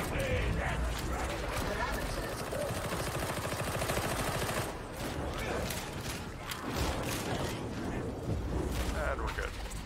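Autopistol fire in Warhammer 40K Darktide comes in rapid, dense bursts amid a loud, busy combat mix, continuing for most of the stretch with a short lull midway.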